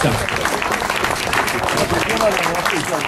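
An audience applauds the French champion in the 60-and-over masters cycling category, a steady dense clapping with crowd noise as a voice speaks over it.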